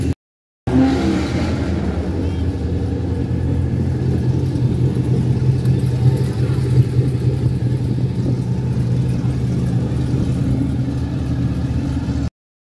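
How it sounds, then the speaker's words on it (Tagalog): A Radical race car powered by a Suzuki Hayabusa motorcycle engine idles and burbles at a track event, a loud steady low rumble running for about twelve seconds without pause. "So this is a radical car na ang makina daw nito is Hayabusa, Suzuki Hayabusa na yung motorcycle."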